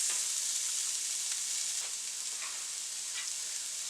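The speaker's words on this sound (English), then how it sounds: "Add some more oil, 1 tablespoon. And we're adding 1 cup of chopped carrots" A cup of chopped carrots sizzles steadily in a tablespoon of hot oil in a pan for shrimp fried rice, a continuous bright frying hiss with faint stirring.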